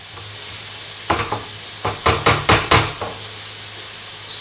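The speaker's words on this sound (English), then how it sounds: "So I'm going to fry these until nice and soft" Sliced vegetables for a cottage pie sizzle steadily in a hot pan while a utensil scrapes and knocks against it several times in quick succession.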